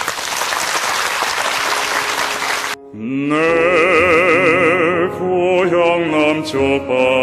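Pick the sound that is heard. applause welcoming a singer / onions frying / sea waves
applause welcoming a singer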